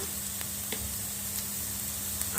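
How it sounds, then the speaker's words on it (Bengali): Onion and coconut fry in a pan with a quiet, continuous sizzle and a few faint ticks, heard close with no voices. "পেঁয়াজটাকে আর নারিকেলটাকে আমি একটু ভেজে নেব"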